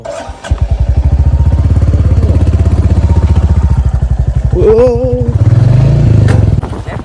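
A motorcycle engine runs close and loud for the whole stretch with a steady throbbing idle, a brief rev near the end, and faint clatter.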